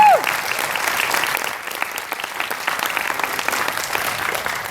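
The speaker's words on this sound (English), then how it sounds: "So if we can give her a big clap," An audience claps steadily for a club administrator at a youth soccer club's college signing night, sustained applause from a room full of people.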